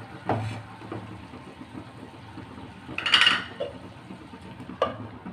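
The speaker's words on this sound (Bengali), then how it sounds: "এখন ঢাকনা দিয়ে ঢেকে দেব।" A metal lid set onto a kadai of chicken on the stove, giving a brief bright clatter midway, with small metallic taps before and after over a low fan-like hum; close, no talking.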